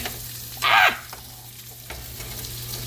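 Steak searing in butter in a hot pan gives a short, loud burst of close sizzling, then falls back to a quiet frying hiss.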